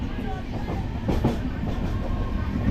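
The Sealdah–Puri Duronto Express rumbles along while changing tracks, with rhythmic clickety-clack of wheels over rail joints, a steady heavy roll with a few sharper clanks.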